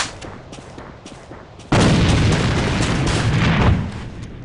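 Grenade blast in an online shooter game, a sudden heavy boom that fills the mix with a loud rumbling roar for about two seconds and then fades, after quieter gunfire and game noise.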